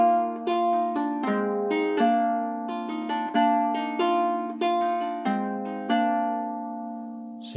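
A seven-string Anglo Saxon lyre strums two major chords side by side over a ringing drone, with steady repeated strokes blending into a continuous shimmering sustain and no voices.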